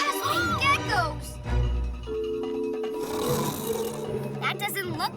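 Animated cartoon snoring from PJ Masks' Snore-A-Saurus, a deep rumbling snore mixed with cartoon voices and sound effects over a few seconds.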